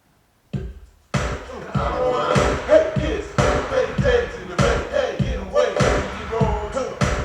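A drum part from a home-studio song plays alone, soloed from the mix, with punchy kick and snare hits in a steady groove, fairly loud after a brief silent start.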